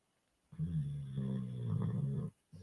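A puppy indoors gives a low, sustained rumbling growl lasting nearly two seconds, close and fairly quiet, with a brief start of another growl at the end.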